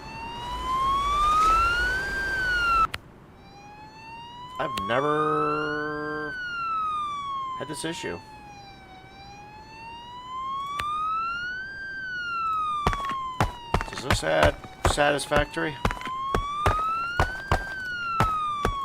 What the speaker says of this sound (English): Sorry for the constant siren there in the background.